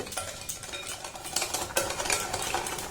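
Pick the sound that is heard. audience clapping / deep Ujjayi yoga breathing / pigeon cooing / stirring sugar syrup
stirring sugar syrup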